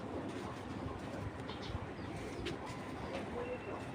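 Racing pigeons in a loft coo in low, soft, repeated murmurs under a steady background hum, with no talking.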